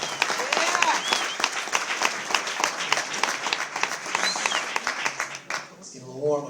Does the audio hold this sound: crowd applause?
yes